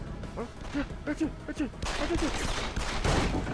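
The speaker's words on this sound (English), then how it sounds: "I'm just gonna shoot blindly and hope I hit something." Blind gunfire erupts in the video game Deus Ex: Human Revolution, a loud, dense, sustained burst of shots with some crashing impacts, mixed under a voice talking over the opening half.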